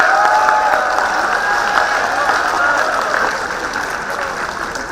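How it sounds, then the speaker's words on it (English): An audience at a business school fintech conference applauds to welcome the Dean, a full, sustained round of clapping with some cheering mixed in, steady and loud before tapering slightly toward the end. "you require a little bigger round of applause, ladies and gentlemen"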